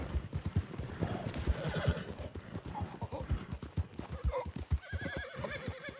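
Rhythmic clip-clop of horse hooves trotting steadily in Red Dead Redemption, with a horse whinnying near the end; close and clear, game-like audio.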